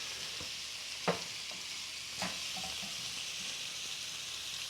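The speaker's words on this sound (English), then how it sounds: "I want these to kind of almost fry up, cook, get some nice color on them" Marinated beef pieces fry in a pan with a steady, soft sizzling hiss, broken by two sharp utensil clicks as they are stirred.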